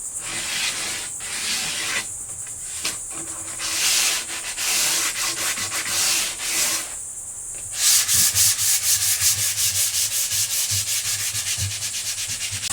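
Sandpaper held loosely by hand rubs back and forth over an old wooden dresser, giving steady, loud, close scratchy strokes with brief pauses and a faster rhythmic scrubbing toward the end; no talking.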